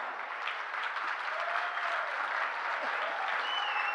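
Steady audience applause during a comedy poetry show, a continuous wash of many hands clapping with faint crowd murmur beneath, evenly loud throughout.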